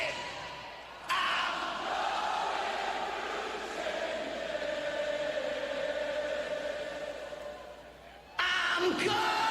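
A large concert crowd in Birmingham sings along to a song loudly, a sustained roar of many voices that swells and dips, with an abrupt cut near the end.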